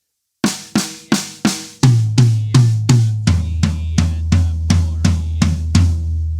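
A drum fill hits close and loud on an acoustic kit: four snare strokes, then four rack tom hits, then eight deeper, booming floor tom hits, all in even 16th notes with no talking.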